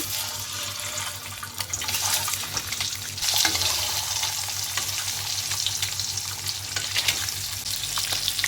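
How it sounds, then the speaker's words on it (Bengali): Boiled, peeled eggs seasoned with salt and turmeric fry in a pan, giving a steady, close hiss and sizzle with splattering crackles throughout. A low background hum runs underneath and no one speaks. "এখন এটা ডিমটাকে ভেজে নেব"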